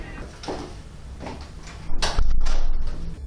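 A door opens in a hotel corridor, a short rustle and handle clatter followed by a louder knock-like thud and creak of the door swinging, heard alone and close.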